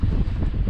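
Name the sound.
wind blowing in an open field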